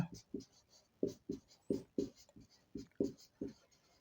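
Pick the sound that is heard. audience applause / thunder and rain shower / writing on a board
writing on a board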